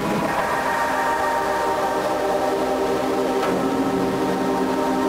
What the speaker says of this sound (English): And when I say train, I actually mean flying train.